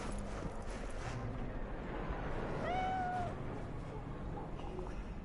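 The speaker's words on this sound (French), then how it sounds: "Trop mignon ce petit chat." A single cat meow in the video game Cyberpunk 2077, fairly close and clear, rising then falling over about half a second amid a dense, rumbling ambient game background.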